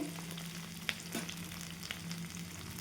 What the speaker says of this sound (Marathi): लसूण पण टाकून घेते आणि छान भाजून घेते कढीपत्ता आणि सर्व साहित्य आहे डाळ वगैरे सगळं छान भाजून घेते